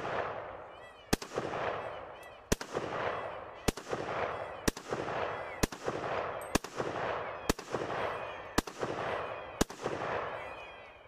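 A military surplus bolt-action rifle firing 7.62x54 rimmed rounds, about nine sharp shots spaced roughly a second apart, each with a ringing decay, outdoors with no talk.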